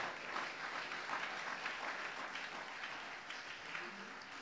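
A church congregation applauds in praise during a worship service, sustained hand clapping filling the room at a steady level from start to finish.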